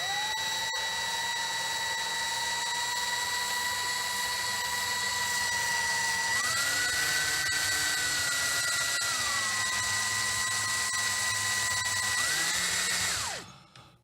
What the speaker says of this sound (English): we're just gonna start drilling